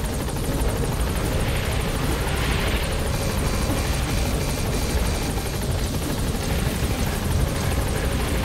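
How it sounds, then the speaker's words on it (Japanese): Rescue helicopter coming in to land in the game Metal Gear Solid V: The Phantom Pain, a steady loud rotor thrum and engine whine that holds constant throughout. "救助機を頼む。よし。 ヘリを下ろす。"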